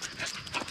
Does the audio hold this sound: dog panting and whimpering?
yes